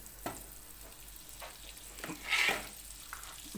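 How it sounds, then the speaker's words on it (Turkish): Soft sizzling and crackling of a spoonful of butter melting in a pot, with faint scraping and a brief louder hiss midway, no voices. "Şöyle bir kaşık tereyağı tencereye aldım. Bu burada erisin."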